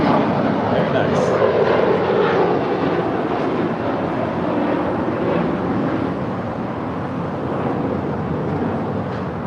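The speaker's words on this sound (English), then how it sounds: "you're looking at Flight 6 heading back to Tel Aviv. It's a 787-9 Dreamliner" A Boeing 787-9 Dreamliner on Flight 6 to Tel Aviv at LAX gives off a sustained engine rumble with some wind buffeting, fading slightly over time beneath ongoing conversation.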